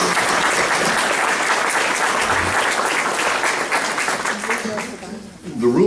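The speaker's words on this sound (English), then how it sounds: "A round of applause for these folks." An audience at a chamber of commerce chocolate gala claps in a loud, steady wave of applause that fades and thins toward the end.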